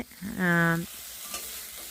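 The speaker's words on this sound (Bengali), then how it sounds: "এই যে ভেজে নিচ্ছি একটু ধনে পাতাগুলো" A short burst of frying coriander leaves in a pan, a brief sizzle with stirring, then a quieter kitchen hum.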